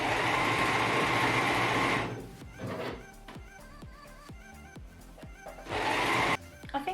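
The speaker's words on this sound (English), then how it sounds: "I think I'll go ahead and overlock the hem also." An overlocker runs fast along the hem of a voluminous tulle wedding gown skirt, a loud continuous whir that breaks into a series of short stitching bursts before speeding up again near the end.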